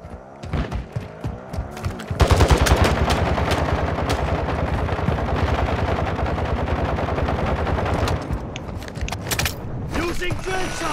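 Gunfire in Warzone 2.0, a modern military shooter video game, with dense rapid automatic bursts and shots that start abruptly after a couple of seconds, then continue loud and sustained before thinning out near the end.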